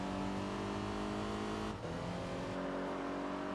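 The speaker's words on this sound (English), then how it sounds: "Oh, that sounds so nice. The VQ engine. That sounds great." A car with a VQ engine in the racing video game Enthusia Professional Racing drones loud and steady at high revs, with a brief dip like a gear change partway through and no talk over it.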